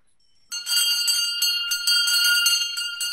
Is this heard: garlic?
no